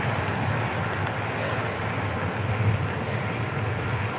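A diesel vehicle passes a rider on an electric mountain bike, its low engine rumble steady and fairly close under gusting wind noise, swelling slightly near the middle.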